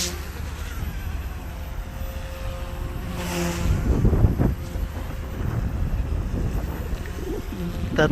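A collective pitch high-performance model helicopter flies outdoors, its buzzing rotor and engine rising from a faint background to a louder pass that holds steady.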